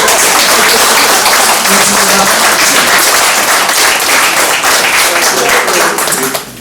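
Loud, dense applause from a lecture audience at a Korean talk by a pastor, steady broadband clapping filling the whole stretch before easing slightly at the very end.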